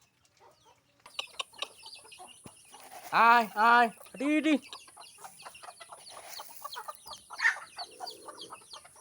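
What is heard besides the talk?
chickens clucking while being fed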